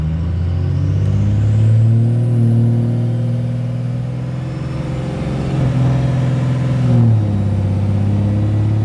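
A Cummins diesel truck pulls away from a dead stop at about three-quarter throttle, engine droning loud and close with rising then shifting tones, dipping briefly near the end before climbing again.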